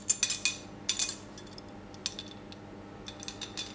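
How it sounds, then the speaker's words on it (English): Metal measuring spoons clink against each other while baking powder is measured out for apple, carrot and oat muffins. A few sharp, close clinks come in small clusters with short pauses between them, and no one talks. "So we need our measuring spoons for this."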